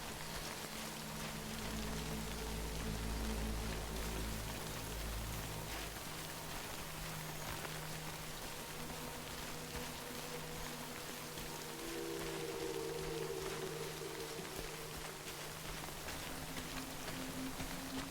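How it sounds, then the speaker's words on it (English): Rain falling in the video game Death Stranding, a soft continuous hiss of drops over low, faint ambient hum, steady and unbroken with no voices. "Good thing it was raining."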